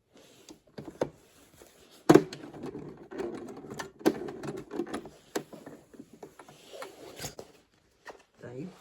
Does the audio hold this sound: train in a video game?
no